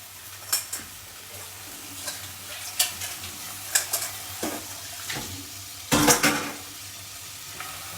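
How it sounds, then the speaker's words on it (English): Spices frying in a pan while being stirred, a soft steady sizzle broken by repeated scraping strokes of a utensil against the pan, several of them irregularly spaced, close and fairly quiet with no talk. "I'm going to have to caramelize this, which means I turn it around, let it kind of fry a little bit"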